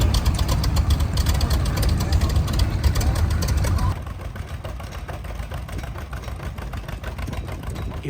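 An antique tractor engine chugs steadily outdoors at a fall festival and tractor show, a dense rapid mechanical rattle that drops noticeably in loudness halfway through and keeps running.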